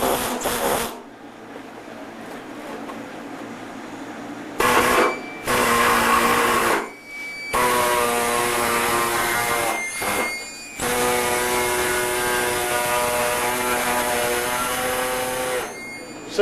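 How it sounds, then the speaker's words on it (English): An air saw fitted with a hacksaw blade cuts fiberglass in loud buzzing bursts with a fast, even reciprocating hum, stopping and restarting several times with short pauses between runs. "if you have an air saw, this is a hacksaw blade. It goes right down into the air saw"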